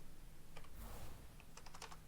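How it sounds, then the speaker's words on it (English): Computer keyboard keys pressed while playing Fortnite, a few scattered taps followed by a quick cluster of clicks, close and moderately loud with no talk. "hit the Alt key on your keyboard"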